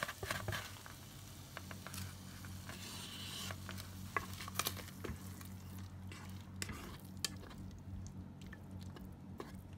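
Three beaten eggs are stirred into tuna rice inside a rice cooker, giving a soft, wet squishing and scraping with light sizzle and occasional utensil taps, close and quiet, with no talk.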